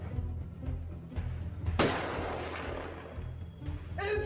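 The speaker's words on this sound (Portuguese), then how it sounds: "Tiros de aviso." Warning shots ring out in an urban combat zone in Ramadi, Iraq: a few sharp reports early on, then one loud close blast with a long decaying echo, and another burst at the end.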